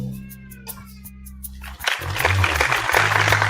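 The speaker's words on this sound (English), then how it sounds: "What a round of applause" A round of applause breaks out on a casual beer-tasting talk show, starting abruptly partway through after a quieter opening and continuing as a full, dense clatter of clapping.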